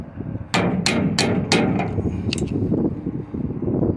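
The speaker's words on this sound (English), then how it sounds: "And just tap the screwdriver with the hammer" A hammer tapping a flathead screwdriver to drive out an old tailgate pin during a tailgate cylinder replacement, several sharp metallic strikes in quick succession, loud and close, then fading to a quieter handling noise.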